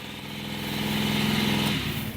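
A Honda XR Baja motorcycle engine keeps running because it will not shut off, a steady close mid-pitched drone that swells slightly and then settles, with no voices.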